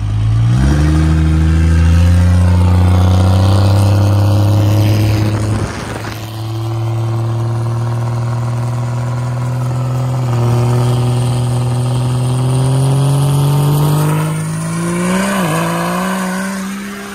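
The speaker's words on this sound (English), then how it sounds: "you can get the engine singing and then grab lockup" An 1100 hp third-generation Cummins diesel truck engine revs hard and holds a loud, steady high pitch during a rolling burnout, then dips and climbs again near the end, with no talking.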